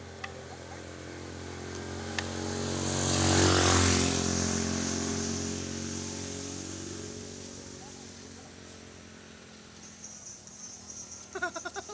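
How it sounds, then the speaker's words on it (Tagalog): Motorbikes pass along a road near a seafood sale spot, one engine swelling loud close by then fading slowly into a low hum, with brief voices at the end. "Daming motor, guys."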